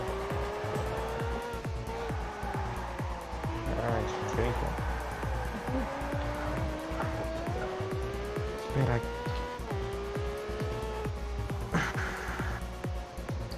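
A car drifts in the racing game Test Drive Unlimited, the engine note climbing through repeated gear changes while tires squeal almost continuously, with someone talking casually over it.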